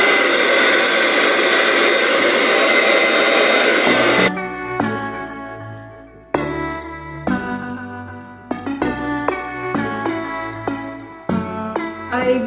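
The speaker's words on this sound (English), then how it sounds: "I use this blow dryer now so I can minimize" A handheld blow dryer roars with a steady, broadband whoosh for about four seconds drying hair, then shuts off, leaving music with a clear beat playing in the background.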